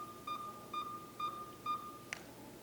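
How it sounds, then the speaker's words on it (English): A dash cam beeps as its system restarts after a reset: four short, evenly spaced electronic beeps about half a second apart, then a brief click, fairly quiet with no talking. "Once you hear those 5 beeps, the system will start the process of restarting."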